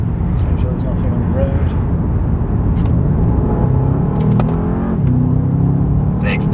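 A Bentley Continental GT V8 Mulliner accelerates hard from 30 to 60 in sport mode on an open road, its V8 giving a steady, loud low rumble with a gradually rising engine note, heard from inside the cabin.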